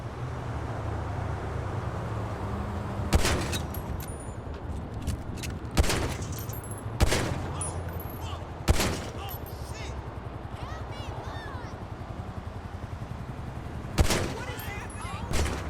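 Gunfire in the GTA V video game aimed at car mirrors: a handful of sharp, separate gunshot cracks spaced irregularly over a low ambient game background.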